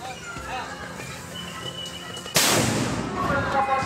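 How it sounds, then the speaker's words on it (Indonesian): A carbide-fuelled cannon used in Rangkasbitung to mark the Ramadan iftar fires one sudden loud booming blast, breaking over a background murmur of crowd voices and leaving a long rumbling tail. "Suara yang menggelegar dari meriam tersebut hasil dari karbit yang dimasukkan ke dalam meriam"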